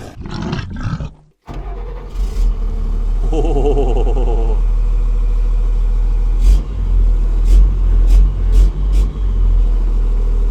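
An armored vehicle's 400 hp 6.7-litre engine runs loud and close, a deep steady rumble that swells in a few revs after a brief cut near the start.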